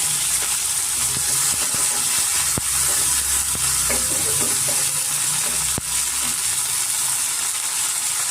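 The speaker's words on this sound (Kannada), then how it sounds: "ಇವಾಗ ಇದಕ್ಕೆ ನಾನು ಬಟಾಣಿ ಸೇರಿಸ್ಕೊತಾ ಇದ್ದೀನಿ." Peas are tipped into ginger and green chillies frying in a pan, giving a steady sizzle broken by sharp clicks and scraping as they hit the pan and are stirred, with no talking.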